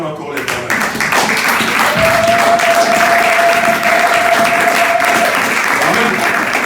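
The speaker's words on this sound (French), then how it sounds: "On acclame encore les paroles." A church congregation bursts into sustained applause at a French-language service, the clapping loud and dense throughout, with voices in the crowd and a steady tone sounding under the clapping.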